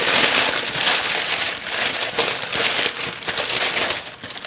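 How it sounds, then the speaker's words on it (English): Paper is crumpled up by hand to line a stone baking top, a loud, close, continuous crinkling and crackling with no talking. "I'm going to crumple this up so it's going to be noisy"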